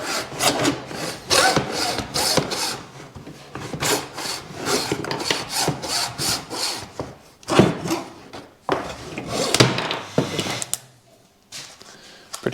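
A plastic car part has a lump cut off with a saw or rasp in rapid rasping strokes, close and fairly loud, with brief pauses between bursts and no speech.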